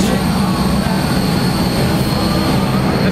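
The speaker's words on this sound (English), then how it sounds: "This is our wee tiny plane that we're going on." Small propeller plane about to take a flight, a loud steady broadband engine roar with a constant drone, close and unbroken, no talk over it.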